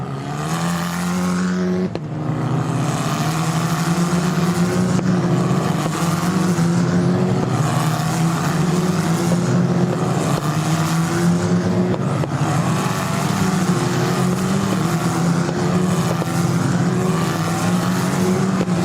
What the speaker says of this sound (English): right there accelerating out of La Curva Roma to 6th gear